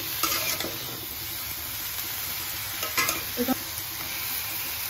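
A banana peel dish frying in a pan while being stirred, a dense steady sizzle with scraping spatula strokes and a few brief clinks, heard up close without talk.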